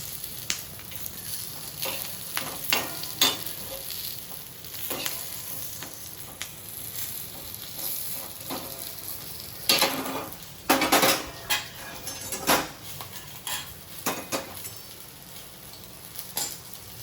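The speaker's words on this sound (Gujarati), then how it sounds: "જો આ મરચાં છે ને આવા સંતળાઈ ગયા છે" Chillies sautéing in hot oil in a pan give a steady close sizzle, broken by sharp clicks and scrapes of a spoon against the metal.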